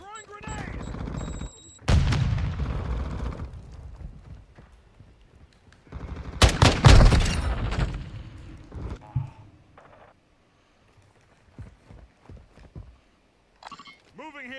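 Combat in Call of Duty Modern Warfare II, with bursts of gunfire and a loud, close explosion in the middle, followed by quieter scattered shots under brief in-game voice callouts.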